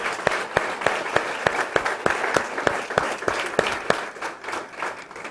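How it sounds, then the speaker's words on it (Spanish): Church congregation standing and clapping in rhythm, a steady beat of sharp, fairly close claps over a bed of general applause, lasting several seconds. "Aplaudámosle."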